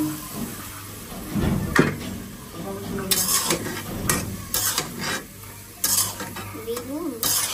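Brinjal stir-fried with cumin in a pan: a spatula scrapes and knocks against the pan in irregular bursts over a low sizzle, with a brief voice near the end.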